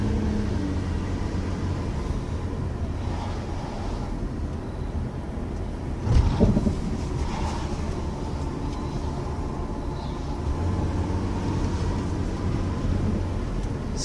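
A car rolling slowly around a residential block, a steady low engine and road rumble inside the cabin, with one brief louder thump partway through.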